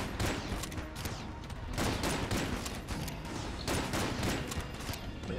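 Rapid gunfire in the roguelike shooter Enter the Gungeon, a constant dense stream of quick shots and impacts in short bursts, loud and busy without pause.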